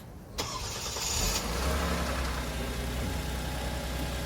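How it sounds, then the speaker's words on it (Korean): A car engine, converted to run on LPG, cranks and catches by remote start, then settles into a steady low idle rumble, heard from nearby with no talking. "시동 걸린 소리가 들려야 되니까"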